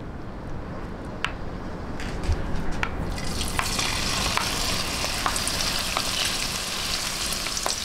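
Kapampangan-style okoy, crispy vegetable fritters with large shrimp, go into hot oil. After a few quiet seconds a dense, steady sizzle swells up and continues close by, with scattered pops and no talking.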